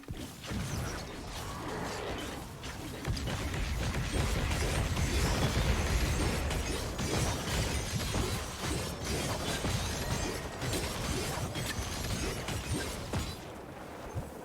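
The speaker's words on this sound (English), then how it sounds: "It's mostly the Gwop explosions and the corpse explosions" Gwop explosions and corpse explosions burst in the action RPG Wolcen: Lords of Mayhem, a dense, continuous wash of crashing, shattering blasts and mechanical clatter that stays loud throughout without speech.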